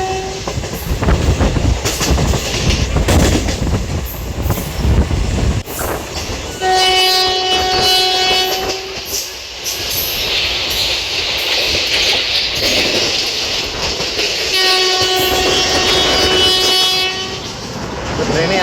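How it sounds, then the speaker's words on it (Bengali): A Lalgola passenger train from Sealdah to Murshidabad runs on the rails at about 70–80 km/h, a loud steady rumble with the horn sounding twice in long sustained blasts, with faint talk in the background. "ট্রেন মোটামুটিভাবে কিন্তু এখন 70-80-তে চলছে"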